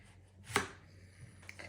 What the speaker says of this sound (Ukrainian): Нарізаємо кабачки просто кружечками